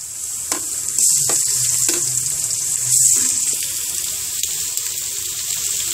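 Onions browning in a pan as fenugreek seeds and ginger garlic paste go in, a steady close sizzle with clinks and stirring scrapes, for a white chickpea curry.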